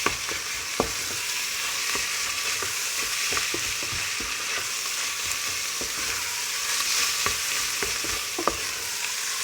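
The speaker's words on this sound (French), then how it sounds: "vous tournez dans la viande en même temps que l'oignon, pour faire cuire un peu la viande et l'oignon avec" Minced beef and onion fry together in a pan, a steady close sizzle broken by scattered clicks and scrapes of a utensil stirring, with no voices.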